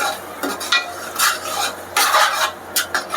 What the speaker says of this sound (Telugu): పెరుగు వేసుకున్నప్పుడు స్టవ్ అయితే సిమ్లో పెట్టుకొని ఇలా మంచిగా వేయించుకోవాలి